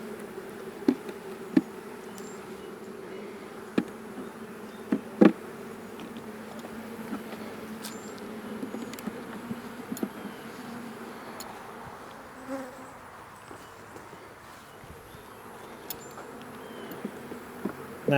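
Honey bees hum steadily around an opened nuc hive during an inspection, a close, continuous drone with occasional sharp clicks and knocks from the frames.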